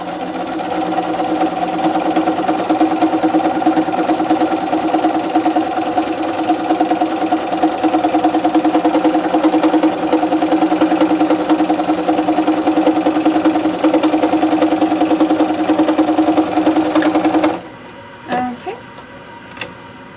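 A sewing machine stitching through foundation-pieced log cabin quilt fabric runs in a steady, loud, close whir for about seventeen seconds, then stops, followed by a few faint handling sounds.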